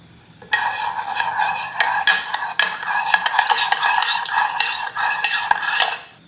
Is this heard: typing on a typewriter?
no